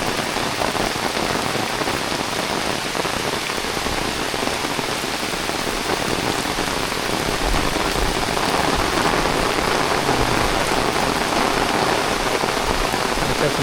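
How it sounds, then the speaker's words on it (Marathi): Heavy morning rain pours steadily in a rural Konkan village near Ratnagiri, a dense, loud, unbroken roar of drops on surfaces that stays constant throughout with no voices. "सकाळ सकाळी एवढा जोरात पाऊस पडतो."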